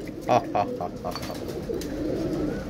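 Mixed-breed domestic pigeons, including golden, lalpari and minar types and a female, coo in a low, steady murmur close by while a person talks over them.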